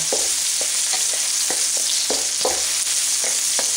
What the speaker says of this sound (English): The onions should be a little translucent, and the peppers will get done about the same time our onions are